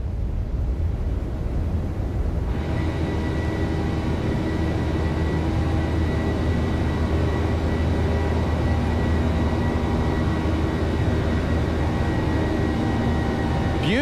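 A simulated Ryanair Boeing 737-800 jet takes off from Athens, its engines a loud, steady roar with a sustained whine that holds throughout, no voices.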